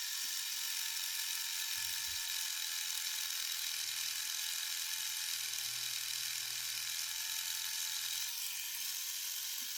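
A Dspiae reciprocating sander with 1000-grit paper works over hardened CA glue mixed with filler powder, giving a steady, high, fine buzzing hiss that continues evenly throughout, quiet and close.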